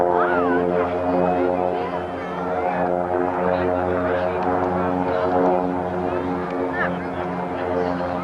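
A propeller aircraft flies at the Fairchild Air Force Base air show in 1995, giving a loud, sustained droning hum with strong engine harmonics and a slowly wavering pitch as it passes, with a voice talking faintly under it.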